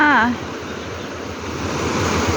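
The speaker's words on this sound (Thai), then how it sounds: "คือน้ำมันมาแรงแล้วก็น่ากลัวมากเลย" Rushing flash-flood water pours over a flooded fish pond by rice fields in Lampang during heavy rain, a loud continuous roar close by, with a brief voice at the very start.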